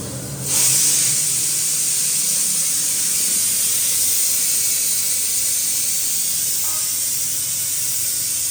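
A loud, steady hiss starts abruptly after a brief quiet moment and holds unbroken to the end, like hot tempering spitting as it is poured into a creamy kidney-bean curry.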